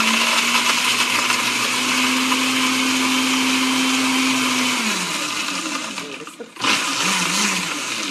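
A blender runs loudly on high, blending an icy frozen Negroni, whirring steadily for several seconds before winding down and cutting off, then restarting briefly.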